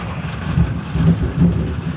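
Low rumbling thunder rolls in repeated swells beneath a steady hiss of rain during a summer storm, heard outdoors with no voices.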